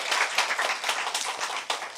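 A church congregation claps together in steady, dense applause, with no talk over it.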